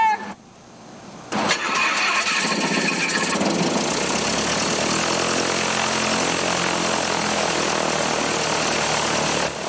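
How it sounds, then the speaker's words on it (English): A light aircraft's piston engine cranks with a brief whine and catches, then settles into a steady loud idle drone with propeller buzz, heard close up and alone. "So we'll go ahead and start the engine up."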